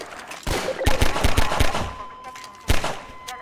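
Gunfire in Half-Life 2 rattles off in a rapid burst of sharp shots, followed by a lone louder shot near the end, with faint game ambience between.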